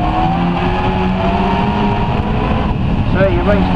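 Classic Stox race cars roar along the home straight at Swaffham Raceway, their engines a loud steady drone that rises in pitch near the end, under a commentator's continuous talk.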